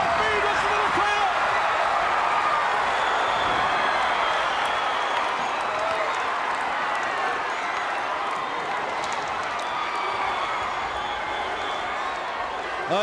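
A wrestling arena crowd cheering and applauding during a six-man tag match, a loud sustained roar of voices and clapping that fills the space without letup, with an announcer's voice blended into the din.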